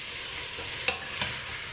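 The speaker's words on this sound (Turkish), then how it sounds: "Bir tatlı kaşığı tuz atıyorum arkadaşlar. Kavuruyorum." Meat for Turkish çiftlik kebabı, salted, sizzles steadily as it is sautéed in a pan, with a few soft scrapes of stirring over the close, constant frying hiss and no talking.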